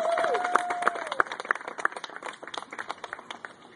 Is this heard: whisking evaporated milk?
no